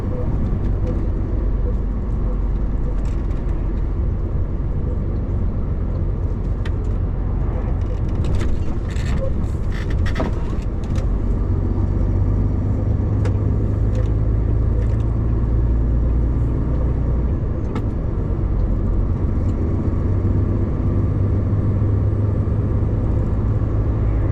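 Road traffic on a temporary road beside roadworks on the outskirts of Valencia near a dual carriageway, heard as a steady, continuous low rumble of passing cars with a few louder swells, with no break for its full length.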